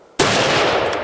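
A single rifle shot fired at an elk during a northern New Mexico hunt cracks sharply and very loud up close, then rolls off into a long, broad echoing boom that fills the rest of the second.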